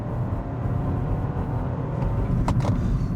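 A 2025 Chevrolet Trax RS with its turbo engine at full throttle, a steady loud in-cabin engine drone and road roar that builds slightly as it accelerates, with a couple of brief higher whines near the end and no speech.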